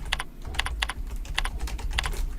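Close, steady typing of code on a computer keyboard, with quick clustered keystrokes in an irregular rhythm, heard alone.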